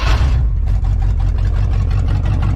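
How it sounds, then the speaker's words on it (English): A Ford F-150 with its catalytic converter stolen idles loudly and harshly up close, a continuous throbbing low rumble with a raspy exhaust edge and no voices over it. "Sounds awful because somebody robbed the catalytic converter"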